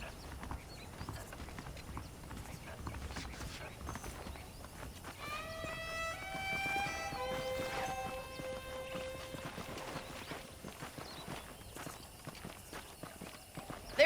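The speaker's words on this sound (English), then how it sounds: "The horses are saddled up over here." Saddled horses in the game Red Dead Redemption clop steadily on the ground, hooves near and moderate in volume, with a horse whinnying partway through.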